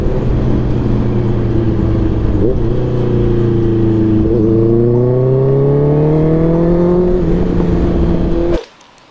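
A Honda CBR650R motorcycle fitted with an aftermarket Daivo exhaust revs close and loud. The engine pitch climbs and dips through several throttle blips over a steady idle, then cuts off abruptly at the end.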